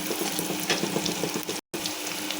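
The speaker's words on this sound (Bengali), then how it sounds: "এখন ভালোভাবে ভেজে নেব।" Greens (water spinach) with a couple of shrimp fry steadily in a home-kitchen pan, a continuous close sizzle with faint stirring scrapes and a brief dropout near the end.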